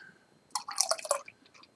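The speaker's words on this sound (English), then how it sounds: "let's pour some more beer in this glass here" Alameda Island New Hopland hazy pale ale pours into a glass in a short, close burst of splashing and fizzing trickles that lasts under a second.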